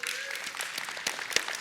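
A conference audience at a Microsoft Power Platform session breaks into applause, bright close clapping with scattered sharp individual claps standing out.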